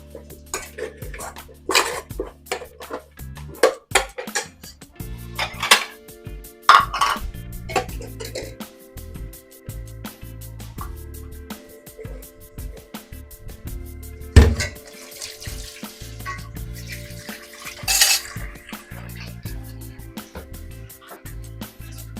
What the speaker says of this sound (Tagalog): Higasan muna natin yung kaldero guys.